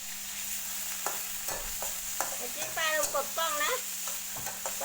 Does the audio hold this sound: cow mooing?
no